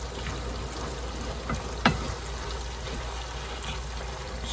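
Taco mixture simmering on the lowest heat in a skillet on the stove, a soft continuous bubbling sizzle with one sharp tap near the middle, close and fairly quiet, no voices.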